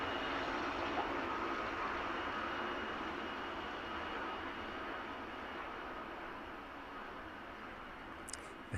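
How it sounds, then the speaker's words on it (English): An Aerologic Boeing 777 cargo jet arriving from Delhi rolls out along the runway at East Midlands Airport in the evening, its engines giving a steady, broad roar that eases slightly as it slows. "The Aerologic 777 inbound from Delhi, flight time just shy of 9 hours."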